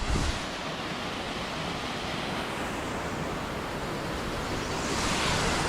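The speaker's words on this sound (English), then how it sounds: "Here's a waterfall." A waterfall beside a backpacking trail roars as a steady, dense rush of water, loud and continuous from start to finish with no voices over it.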